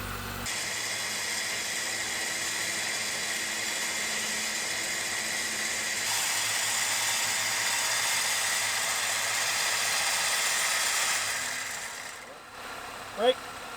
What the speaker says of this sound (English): winch it up under the weight of the vehicle